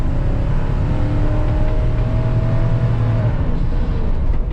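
A 2015 Ford E-350 shuttle bus accelerates from about 40 to 49 mph, its engine giving a steady, loud, continuous drone with road rumble and no talking.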